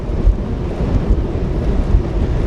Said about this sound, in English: something just causes the winds to really pick up down here